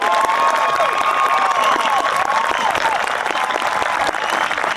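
Loud, dense applause from a high school graduation crowd, with cheers, whoops and high shouted voices rising over the steady clapping throughout.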